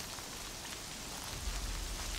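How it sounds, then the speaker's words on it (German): Steady rain falls in the Horizon Zero Dawn video game, a soft, even hiss of drops on surfaces, faint and continuous, with no voices. "Es riecht nach Regen."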